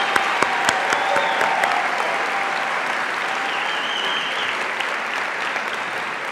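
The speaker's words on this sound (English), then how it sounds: "Let's give our master's students a round of applause and our doctoral students." Commencement audience applauding master's and doctoral nursing graduates, a dense, steady clapping from a large crowd that holds at a loud, even level throughout.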